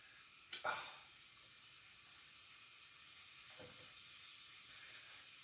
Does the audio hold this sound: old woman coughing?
no